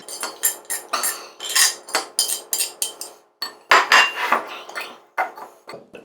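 Metal utensil scraping and clinking against a bowl to get the last of a super spicy scorpion dish out, a rapid series of close, bright scrapes and taps with a brief pause midway.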